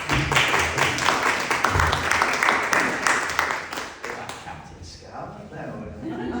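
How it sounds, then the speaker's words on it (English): An audience claps in a steady, dense patter that carries for several seconds, then thins and fades toward the end, with voices mixed underneath. "let's give them a clap"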